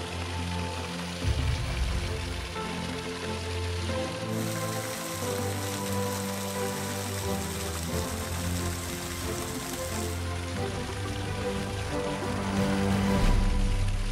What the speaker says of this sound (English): And nice little waterfall here called Soda Springs.